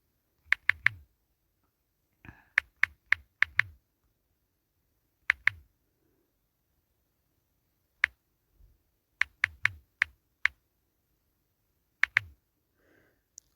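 Someone types an ID and password on a keyboard to log into a mobile app, producing sparse, quiet clusters of crisp key clicks separated by pauses.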